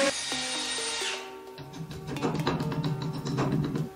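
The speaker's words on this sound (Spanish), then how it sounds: "Y comenzamos a perforar el muro." A power drill bores into a masonry wall with a wet bit while an aluminum window frame is being installed. A steady whine gives way to a rougher grinding drone that carries on close and loud.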